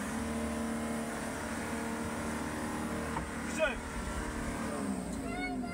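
A pick-up truck stuck off-road in mud: its engine drones and labours steadily with strained revving that rises and falls, heard fairly near, mixed with faint voices in the background.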